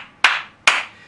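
Two sharp, loud hand claps ring out about half a second apart, each a bright crack with a short decaying tail, alone with no other sound.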